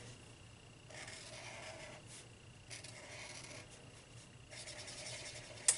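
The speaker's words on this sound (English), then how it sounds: "Okay, now the Copic marker." A Copic marker drags across thick paper in soft, close, scratchy strokes, several separate passes with short pauses between them, faint and without speech.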